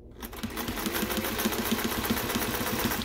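A sewing machine runs steadily, stitching a poet shirt sewn from bedsheets, with a rapid even rhythm of needle strokes, close and fairly loud and alone, after a brief silent start.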